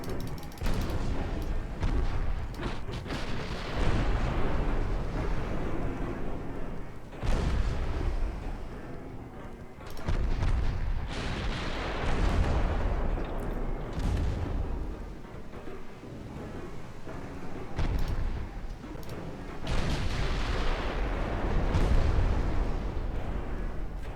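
Heavy naval guns boom repeatedly in a warship battle game: loud, dense broadside blasts that roll over one another, with short lulls near 7 and 10 seconds before the firing resumes at full strength.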